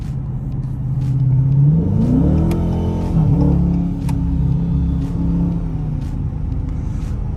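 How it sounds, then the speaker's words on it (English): A 2017 Dodge Challenger idles with a deep rumble through its stock exhaust, then revs up and holds a higher, steady drone before easing back. "So this how the exhaust sound."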